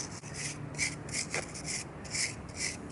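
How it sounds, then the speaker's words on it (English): A wire brush scrubs the last dirt off a rock boulder in quick, rhythmic back-and-forth strokes, close and scratchy, with no talking. "We can just get the last little bits with the wire brush."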